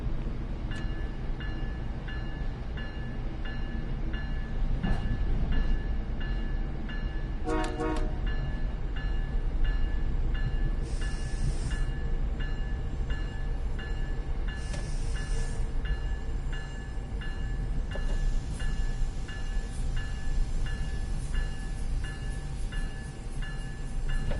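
Train in a train simulator video game rolling steadily with a continuous low rumble, a horn blast and a few higher tonal toots breaking through over the constant running noise.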